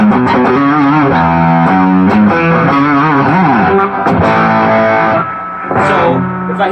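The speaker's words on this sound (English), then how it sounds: "really that's as much distortion as you can get out of this amp" An electric guitar plays through an amp with the gain turned all the way up, giving a loud, heavily distorted, sustained tone that carries without a break through chords and bends.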